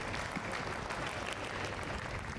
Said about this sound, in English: So a big applause, please,